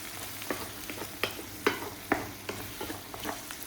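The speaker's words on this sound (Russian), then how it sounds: "Ну, вот оно и поджаривается уже." Dotur, a lamb offal dish, fries quietly in a pan, with a soft, steady sizzle broken by several scraping stirs.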